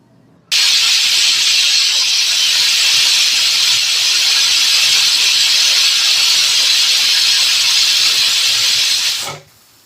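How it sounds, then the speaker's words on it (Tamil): A pressure cooker whistle: a loud, steady jet of steam hisses continuously for about nine seconds while cooking mutton, then cuts off abruptly. "இப்போ நமக்கு விசில் போயிடுச்சு"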